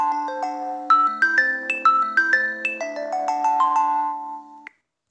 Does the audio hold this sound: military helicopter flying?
no